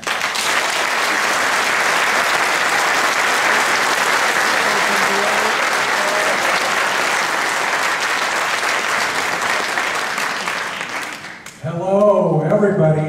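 A lecture-series audience gives a long, full round of sustained applause, dense and steady for about eleven seconds before it cuts off and a speaker's voice begins.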